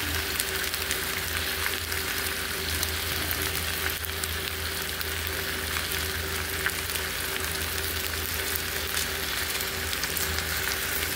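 Tofu sisig with chicken frying in a pan, a steady close crackling sizzle with faint stirring throughout, no voices.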